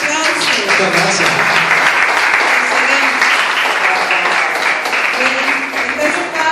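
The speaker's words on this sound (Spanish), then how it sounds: "Ajá, perfecto, excelente, un aplauso." Audience applause in a cardiology consultation show, a dense steady wash of many hands clapping throughout, loud and close, with voices mixed in underneath.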